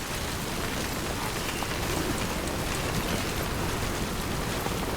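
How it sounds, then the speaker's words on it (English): Steady, dense rain pours during a thunderstorm in the video game Death Stranding, a continuous broadband hiss that stays loud and even throughout with no distinct thunder claps and no voices. "let's not spend longer than we need in the rain"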